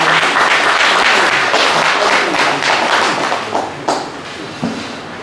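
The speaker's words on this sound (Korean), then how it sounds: "동의하시면 한번 박수로 동의해 주시기 바랍니다" An audience at a film production launch event breaks into dense applause that gradually thins, ending in a few scattered claps and thuds.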